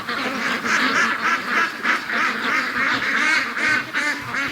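A flock of free-range ducks quacks loudly and close by in a driveway, raspy calls overlapping in a busy, continuous chatter.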